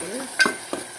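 Ginger paste being stirred into a frying pan gives two quick spatula scrapes over a soft, steady sizzle, close by, within about a second.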